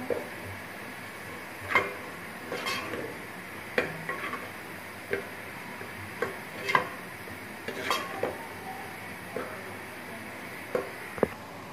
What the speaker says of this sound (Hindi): इसको हम अच्छी तरह से भून लेते हैं।